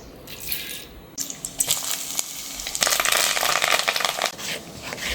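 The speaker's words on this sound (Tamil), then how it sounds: "நல்லெண்ணெய் ஊற்றிக்கலாம் இப்போ கடுகு போட்டுக்கலாம்" Mustard seeds spluttering in hot sesame oil in a pan for fish fry: a steady sizzle that grows into dense, crackling popping, getting louder and busier toward the end, with no talk.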